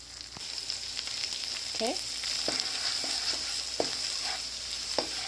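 Shallots and garlic sautéing in a pan with chorizo over medium-high heat, a steady close sizzle with occasional utensil clicks and a brief spoken word.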